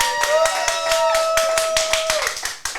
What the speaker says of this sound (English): Go ahead and give yourself a big round of applause